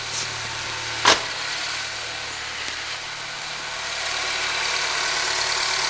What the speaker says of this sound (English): start the recording and let me go and start the car